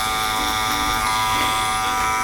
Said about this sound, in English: Cordless Lithium-Ion Clipper.